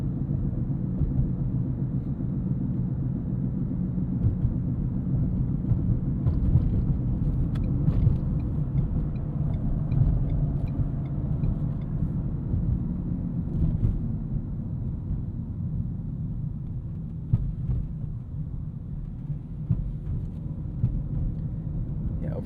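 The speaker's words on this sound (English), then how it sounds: "The only bit of intrusion you get, as you can hear there, is from these tires" Steady low tire roar from the road inside a 2017 Ford Fusion Sport twin-turbo V6 sedan, a constant rumbling drone that stays even throughout with faint occasional bumps.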